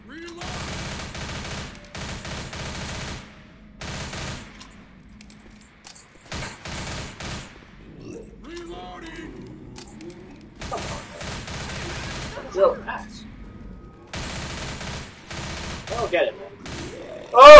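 Gunfire in the zombie shooter Left 4 Dead: repeated rapid bursts of automatic fire, loud and close, broken by short pauses, with people talking in between.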